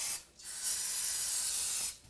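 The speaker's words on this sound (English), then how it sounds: "And just clean it off with a little brake parts cleaner." Two hissing bursts of brake parts cleaner sprayed from an aerosol can onto a 2015-2020 GMC Yukon XL engine part: a short spray, a brief pause, then a longer steady hiss, close by.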